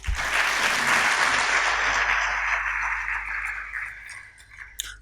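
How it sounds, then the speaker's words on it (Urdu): Audience at a university celebration event applauding, a dense burst of clapping that swells right away, holds strongly, then thins out and fades toward the end. "تو اس یونیورسٹی کے لیے بھی تالیاں"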